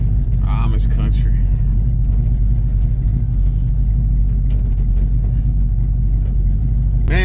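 A deep, loud engine rumble throbs steadily close by, a lopey idle with low-end growl from the cammed 383 stroker V8 of a 1978 Chevrolet Malibu, while a voice talks briefly near the start.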